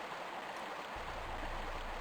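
Rushing river water in the video game Tomb Raider I: a steady, dense wash of flowing water fills the whole stretch, with a low rumble thickening partway through and no voices.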